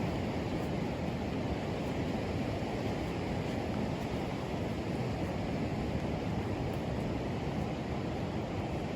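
Sea waves on a calm day with no wind, a continuous broad wash of surf at steady loudness throughout, with no voices and no gusts.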